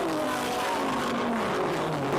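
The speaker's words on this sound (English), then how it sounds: "listen to this variation of motors" GT race cars at Highlands Motorsport Park during a 2016 Australian GT round, several engines revving and droning together with shifting pitches, loud and continuous as they pass on track.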